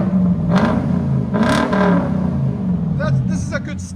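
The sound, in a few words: 1996 Lexus LS 400 V8 with straight pipes idling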